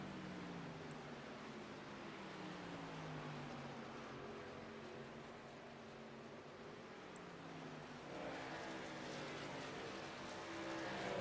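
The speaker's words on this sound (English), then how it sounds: "It's always nice to hear these trucks in full song" Race truck engines roar at Homestead-Miami in the iRacing sim, a low, steady drone of several trucks at full throttle that swells near the end, no talking.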